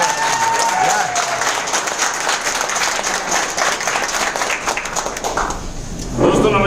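Audience applause at a hotel business meeting: sustained dense clapping from a roomful of people, steady and loud throughout, with a swell of crowd noise near the end.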